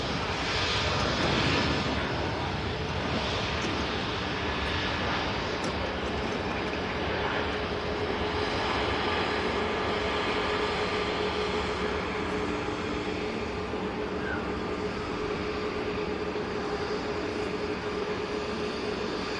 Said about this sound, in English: here's the Turkish on the takeoff roll for Istanbul